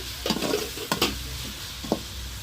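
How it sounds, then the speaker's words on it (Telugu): Ginger garlic paste and onions fry in hot oil for a simple chicken fry piece biryani, a steady close sizzle with a few short stirring scrapes. "అల్లం తెల్లగడ్డ పేస్ట్ ఫ్రెండ్స్ ఇవంతా మంచిగా వేయించుకున్నాము"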